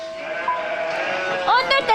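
A cartoon sheep bleats in a wavering, nasal cry that rises near the end, loud and close, heard alone in a short burst.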